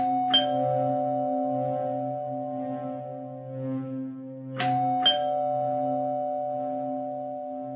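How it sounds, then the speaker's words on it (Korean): A doorbell at an apartment door rings as a story sound effect: one chime near the start, then two more close together later, clear and ringing over a soft sustained musical drone. "초인종 소리가 들려왔고"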